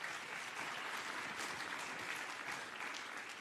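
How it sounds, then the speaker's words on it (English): Continuous applause from an audience at a youth tourism summit in Tanzania, a steady wash of clapping, moderately distant and unbroken for the whole stretch. "Tanzania deserves a round of applause for this"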